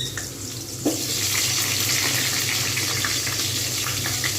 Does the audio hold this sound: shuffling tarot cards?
no